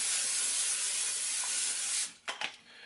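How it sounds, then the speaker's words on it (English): Cooking spray hisses steadily onto a pan for about two seconds, then stops, followed by a couple of faint clicks and knocks nearby. "I'm actually gonna spray my pan. I like to spray my pan down."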